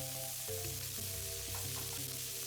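Cooking oil sizzles in a wok before cuttlefish and leek go in for a stir fry, a continuous crackling hiss with a low hum underneath, close and steady, no talking.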